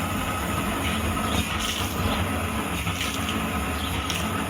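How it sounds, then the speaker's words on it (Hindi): Water poured onto a fire at a gas tank gushes steadily and loudly, with a continuous broadband splashing rush and no speech. "तो मैं इसमें पानी डालूंगा।"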